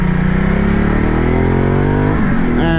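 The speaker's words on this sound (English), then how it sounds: "I need to downshift to a first one" Motorcycle engine on a road in Gran Canaria revving loud and close, pitch sliding as it downshifts to first gear, then a quick blip of revs, with no talk.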